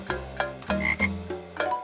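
Cartoonish frog croaks from the Brain Challenge HD video game on Windows Phone 7, a series of short, clear croaks spaced about every half second, mixed with small chiming game tones.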